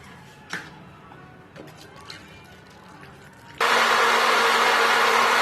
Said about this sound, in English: I'm just going to cut that into small pieces and put it in the blender.